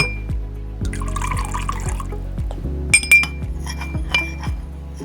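Clinking glass taps repeat several times while alcohol is poured into a glass, followed by a few brighter chinks near the end.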